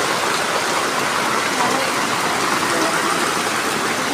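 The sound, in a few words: heavy rain pouring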